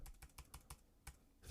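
Quick, faint keystrokes on a computer keyboard, about eight evenly spaced clicks in a short burst, close and with no talk.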